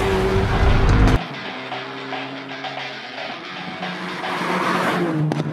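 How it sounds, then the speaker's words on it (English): 2019 Hyundai i30 Fastback N Performance driven hard through curves, its engine loud and close, with a sharp drop after the first second and then rising again as the car pushes on. "The i30 Fastback N is a true curve wonder."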